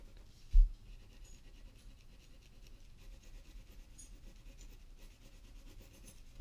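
A blue crayon laid in a light layer on paper, soft continuous scratchy rubbing strokes, quiet and close, with one brief thump near the start.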